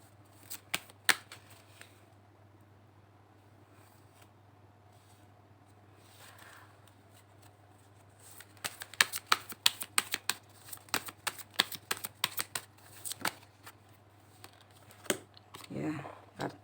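Tarot cards being shuffled and handled, with quiet scattered flicks early and then a dense run of sharp card snaps and riffles over a steady low hum, close up.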